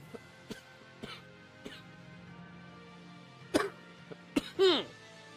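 A few short, harsh coughs break up a quiet room, with scattered clicks and small throat sounds between them.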